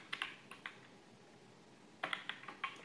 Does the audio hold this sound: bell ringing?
no